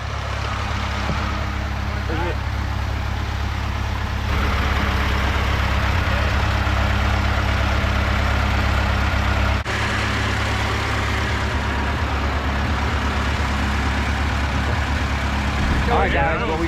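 Engine of a 1923 REO Speedwagon truck, a loud, steady low rumble from close by that holds throughout, with people talking over it.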